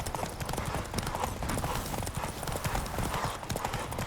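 Hooves clip-clop in a rapid, driving gallop from a horse racing along a track in The Witcher 3, loud and continuous with faint voices mixed in.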